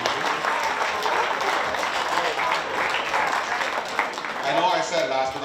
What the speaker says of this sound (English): Round of applause to our EDA Writing Association.